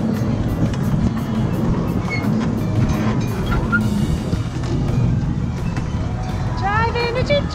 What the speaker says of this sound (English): Driving the choo-choo train.